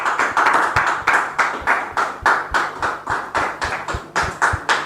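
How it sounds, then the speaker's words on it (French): Rhythmic, unison clapping from guests at a church wedding gathering, steady beats close by as people welcome arriving family members. "On les reçoit sous vos applaudissements,"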